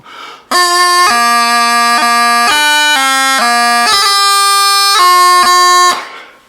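Bagpipe plays a continuous droning phrase from "Song of the Glen", the chanter stepping through several notes with quick grace-note ornaments, an F doubling played off the beat, loud and close, no voices.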